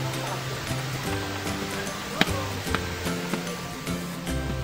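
Hinulugang Taktak waterfall in Antipolo rushes steadily in the background under a crowd of visitors. Faint voices, clinks and music-like tones sit over the constant watery wash.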